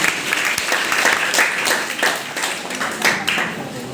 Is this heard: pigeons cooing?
no